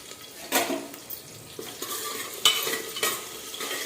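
Chopped garlic and ginger frying in a hot pan for daliya khichdi, with a steady sizzle broken by several sharp scraping stirs of a utensil against the pan.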